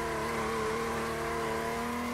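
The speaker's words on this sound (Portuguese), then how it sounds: "Se liga no burnout." A car in the SLRR racing game, battered and dented along one side, revs hard in a burnout, a steady loud droning engine tone holding throughout with no talk.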